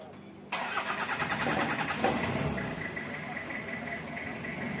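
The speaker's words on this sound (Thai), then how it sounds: "สตาร์ทเครื่องนู่นอ่ะ" A car engine cranks and catches with an abrupt start, then settles into a steady mid-pitched idle with a slight surge a little later, heard close against outdoor background noise.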